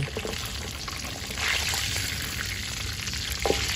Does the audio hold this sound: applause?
no